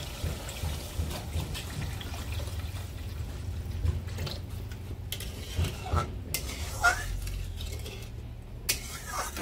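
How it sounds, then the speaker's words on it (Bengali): Water poured into a pan of pabda fish curry whose fried spice base has begun releasing oil; a steady, soft pouring and trickling runs close by for several seconds with no voices. "এখন আমি দিয়ে দেবো জল।"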